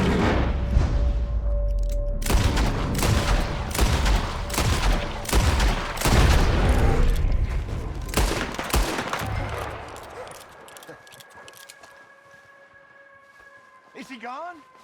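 Rapid, loud gunfire and booming blasts fill the first ten seconds under shouting voices, then fade to a quieter scene with a faint tone near the end.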